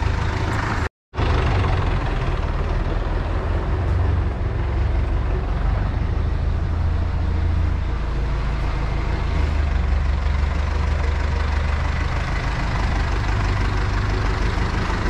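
A tractor engine idling steadily, a loud continuous low rumble with a deep throbbing hum that holds evenly throughout, broken only by one very brief dropout near the start.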